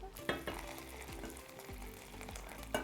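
Vegan bolognese ragout sizzling and bubbling in a pan, a close, quiet frying hiss with soft stirring scrapes and a couple of sharper clinks from the utensil, no talk.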